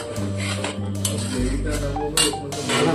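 Chicken kosha with ground spice paste is stirred and sautéed in a pan, with repeated metal spatula scrapes and clinks against the cookware, close and fairly loud, over a low kitchen hum.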